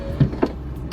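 A BMW R50 Mini power window motor lowers the window in a short, close whir with two faint mechanical clicks, heard alone.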